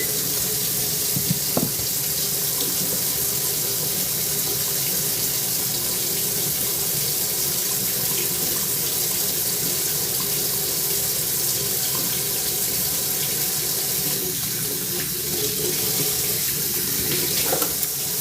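Greasy hands being washed under a running kitchen tap while making biscuits, a steady loud gush of water splashing into the sink throughout, close and continuous, with no talk.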